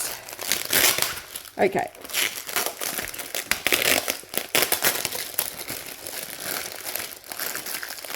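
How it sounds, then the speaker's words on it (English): Packaging of a budget diamond painting kit being ripped open by hand, a continuous close crinkling and tearing of plastic wrap that runs throughout, with a brief spoken word partway through. "I am just going to rip this"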